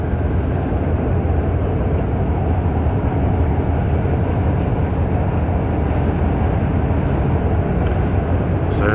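Loud, steady low rumble of a REM light-rail train running on the Main Line near Central Station, continuous and dense for the whole stretch with no pauses or distinct clicks.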